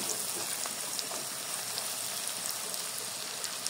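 Onions frying slowly in a pan over a low gas flame, a soft, even, continuous sizzle with faint crackles throughout, quiet and close with no voices.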